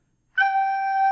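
A short melodic motif in the style of Beethoven, heard as one sustained, clear tone with a few overtones after a brief silence, steady and close.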